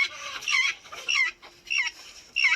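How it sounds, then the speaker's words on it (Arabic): Guinea fowl at a bird garden give loud, close, repeated harsh clucking calls in bursts with short pauses between them. "هذا النوع من الدجاج اجتماعي كتير"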